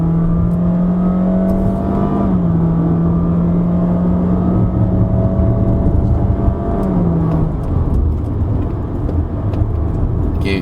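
A 2021 Honda City RS hybrid with 253 Nm of torque accelerates uphill on the Genting Highlands road. A loud, continuous engine and motor drone carries a steady tonal whine whose pitch shifts a couple of times. No one talks.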